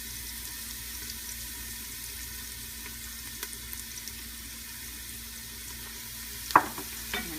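Onions sauté softly in a pan with kosher salt and pepper, a low steady sizzle and hiss at moderate distance, with a couple of brief clinks near the end and no talk.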